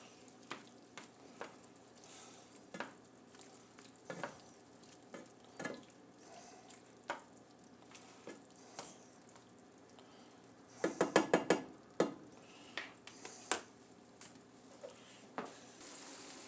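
Drained diced potatoes stirred into frying ham in a pan, a quiet sizzle under repeated sharp scrapes and clinks of a utensil against the pan, with a quick cluster of knocks partway through.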